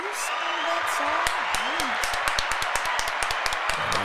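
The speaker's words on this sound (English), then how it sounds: "Round of applause. Round of applause." A small group claps in a rapid, sharp round of applause under ongoing voices and background music, the hand claps close and steady.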